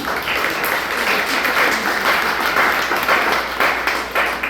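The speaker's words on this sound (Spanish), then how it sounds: "Dale un fuerte aplauso al Señor." A congregation applauds during a Spanish-language church sermon, a dense, steady wash of clapping that holds strong throughout with a faint low hum underneath.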